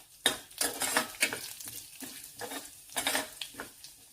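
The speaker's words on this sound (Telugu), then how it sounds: "కొంచెం ఇది చిటపటలాడాలన్నమాట." Mustard seeds and other tempering spices spluttering in hot oil in a pan, with rapid crackling pops and scraping, stirring and metal clinks repeating for several seconds, close and loud with no talking.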